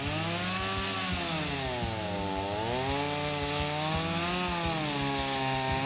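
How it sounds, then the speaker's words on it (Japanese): A small chainsaw runs continuously, its motor whining and rising and falling in pitch as it chews through discarded lumber, loud and close with no talking. "それにしてもこの小さい方のチェーンソー切れませんね"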